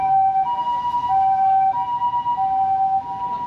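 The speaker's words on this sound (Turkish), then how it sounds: "Bu zaten ambulans değil mi?" An emergency siren on a Tokyo street wails in alternating two-tone cycles, loud and clear, with faint road noise underneath and no talking.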